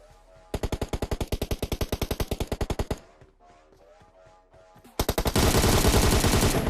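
Automatic gunfire in a battle royale shooting game, a loud rapid burst of evenly spaced shots, a short lull with faint background noise, then another dense volley that blends into a sustained roar of fire.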